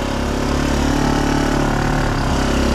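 A Honda Foreman 500 ATV engine running in four-wheel drive on a dry trail: a loud, close, continuous mid-pitched engine drone with a steady rumble throughout.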